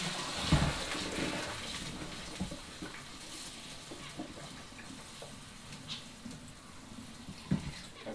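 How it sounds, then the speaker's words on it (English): Water drains and trickles through a strainer outdoors, a soft continuous splashing with a few small clinks, fairly faint and without talk. "I want to use a strainer and strain the water out again"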